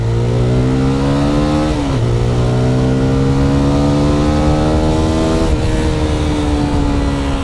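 A GPX Demon 250rr motorcycle engine revs loudly and close up, a gruff steady drone that dips briefly twice and climbs again, with no voices.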